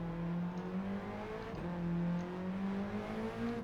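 An Alpine A110 in Gran Turismo 7, lapping Tokyo Expressway, accelerates with a steady, loud engine note whose harmonics climb through the gears, a brief shift dip midway.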